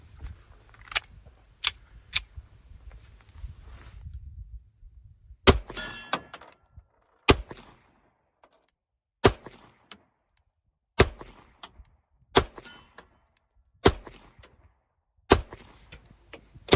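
A Beretta APX A1 pistol fires about a dozen sharp, loud shots at an outdoor range, spaced irregularly a second or more apart, with quiet gaps and faint rustling between them.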